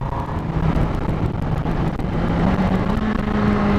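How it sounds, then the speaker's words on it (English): A 2018 Honda CBR1000RR SP Fireblade engine drones loud and steady under heavy wind rush while riding, its pitch rising slightly toward the end. "Oh, that auto blipper is delightful."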